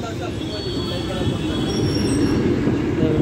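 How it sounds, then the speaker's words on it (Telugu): Rumbling rail noise from a train near Nampally railway station in Hyderabad, a steady close roll of wheels on track with faint high squeal, heard continuously from nearby traffic. "నాంపల్లి రైల్వే స్టేషన్ దగ్గర ఉన్నాము."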